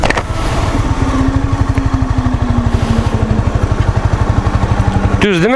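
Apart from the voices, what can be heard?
motorcycle engine at a race track entrance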